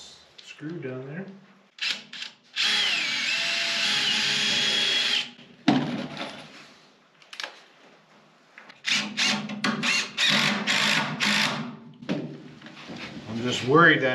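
A power drill drives screws into 2x4 stud framing for a solar room inside a barn, with several whirring bursts of a few seconds each, close and loud, between stretches of people talking.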